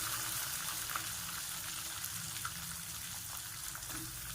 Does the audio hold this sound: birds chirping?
no